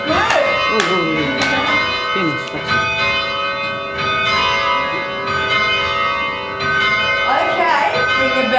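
Church tower bells ringing in the Swan Bell Tower in Perth, Western Australia, loud and close with overlapping tones and long ringing decays, each bell a different note, while people talk beneath.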